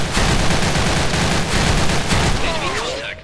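Dense, loud automatic gunfire from the online shooter Special Force 2, rapid continuous bursts of shots with a brief whooshing effect near the end and some voice mixed in.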